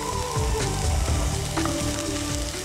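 Sweet corn and upright-sliced mushrooms fry in a pan with a dense, continuous close sizzle, and the occasional stir or scrape sounds under it. No one talks.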